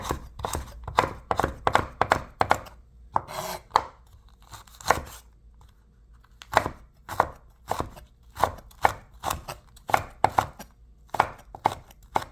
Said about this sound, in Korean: 이렇게 고추는 이제 썰어 놓고